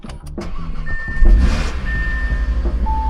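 A car engine starting: a starter whirrs, then the engine catches and settles into a deep idle, close and loud, with a few chime beeps from the cabin and no talk.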